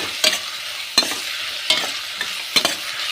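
A spoon scrapes through a batter mixture in a pan as coriander leaves are stirred in, four or five distinct scraping strokes spaced about a second apart over a soft background hiss.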